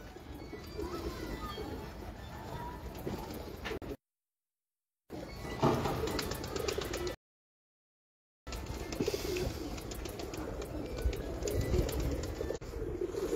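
Pigeons cooing in a loft kept by a pigeon fancier, a steady murmur of low coos running through most of the clip, with a person talking over them and two short dropouts in the sound.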